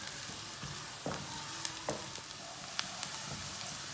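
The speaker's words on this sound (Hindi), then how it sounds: "एक प्याज बारीक कटी हुई, इसे हल्का सा ब्राउन कर लेते हैं" Finely chopped onion fries in oil in a pan with a steady close sizzle, broken by a few sharp scrapes and clacks of stirring.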